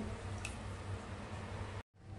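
Water pours steadily into a pan in a soft, continuous splashing stream, faint and close, before it stops abruptly near the end.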